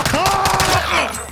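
MP40 submachine gun fire in a Call of Duty Black Ops Rebirth match, a loud burst of rapid shots tangled with game effects and a sliding tone, with voices chattering over it.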